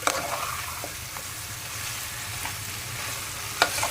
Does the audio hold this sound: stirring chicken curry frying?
yes